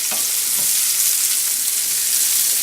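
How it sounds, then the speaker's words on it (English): Sliced onion sizzling loudly in hot oil for masoor dal, a dense, steady crackling hiss close up, with no voices. "we'll add in our sliced onion"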